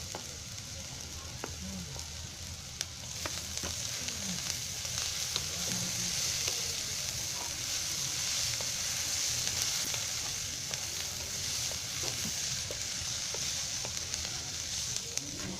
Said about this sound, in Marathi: कांदा आणि खोबरं असं मस्त भाजून घ्यायचा लाल होईपर्यंत.